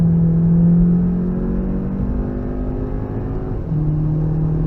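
A car accelerating on the Nürburgring Nordschleife in the rain: a steady, close engine drone with rising harmonics, easing slightly midway and then building again toward the end, with no one talking over it.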